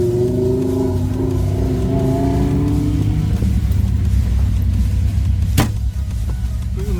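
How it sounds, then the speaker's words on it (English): A car passes on a mountain pass, its engine a steady, loud, close drone that holds for several seconds, with a brief sharp knock near the end. "Waiting for the car to pass."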